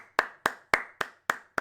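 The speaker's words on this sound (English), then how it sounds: "I'm giving that a round of applause." One person claps their hands six times in a steady, evenly spaced rhythm, each clap sharp, close and dry, with short quiet gaps between.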